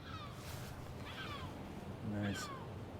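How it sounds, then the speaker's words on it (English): Seagulls calling near Anfield stadium in Liverpool, a few separate squawking cries spaced across the moment, fairly clear over a soft outdoor background. "Seagulls are taking offence to the zone."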